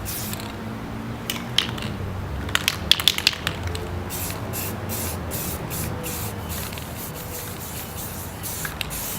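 Aerosol spray paint misting camouflage colors over a gun, heard as soft hissy bursts of varying length, several short rapid puffs in the middle, over steady background noise, with no talk.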